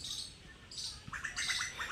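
Small birds, including sparrows, chirp and tweet in quick bright bursts outdoors on a farm, fairly faint, with a cluster of rapid calls toward the end.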